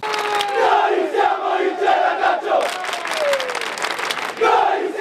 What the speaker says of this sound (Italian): ieri sera i tifosi hanno fatto sentire la propria voce